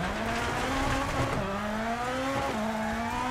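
A rally car in EA Sports WRC, its engine droning steadily while the pitch rises, dips sharply under braking, then climbs again under light throttle, with no voices over it.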